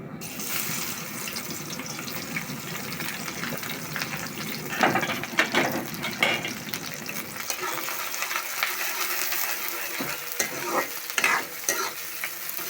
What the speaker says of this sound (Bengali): এখন আমি তেল দিয়ে দেব এখন আমি কাঁচামরিচ আর পেঁয়াজ দিয়ে দেবো